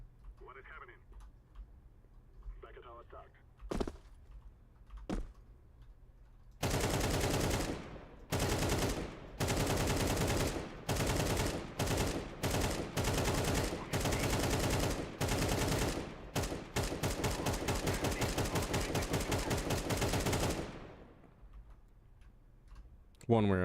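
Rapid bursts of video game gunfire sound on a Counter-Strike map, loud full-band volleys with short gaps running for about fourteen seconds. Quiet talk and a few single clicks come before them.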